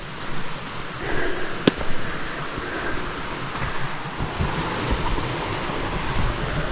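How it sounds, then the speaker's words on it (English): Flat Laurel Creek, a mountain stream along a hiking trail, gives a steady, continuous rush of flowing water, fairly close and unbroken, with no talking. "There's Flat Laurel Creek."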